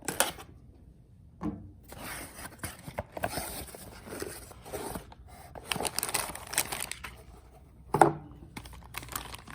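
Packaging for a Kydex holster made for a Sig Sauer P365 is being cut and pulled open, with close, intermittent tearing, crinkling and plastic clicks between quiet pauses.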